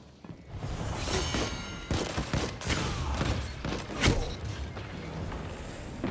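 Rapid hand cannon gunfire in a Destiny 2 PvP match, with sharp shots cracking in a dense, continuous volley alongside whooshing and mechanical game effects.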